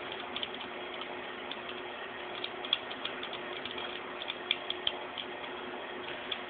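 A British Enfield .303 rifle bolt being unscrewed, with a rapid run of fine metallic ratcheting clicks and ticks, close and fairly quiet, continuing steadily with no talk.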